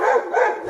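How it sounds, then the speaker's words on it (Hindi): A dog gives a short, close bark, loud and held briefly, with no talk over it. "भौंकना बंद करो और चलो उन्हें खाते हैं।"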